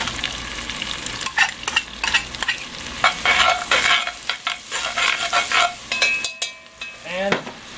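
Diced whole onion sizzles in a hot pot while a utensil stirs and scrapes it, making irregular loud scraping strokes over a continuous frying hiss with no talking.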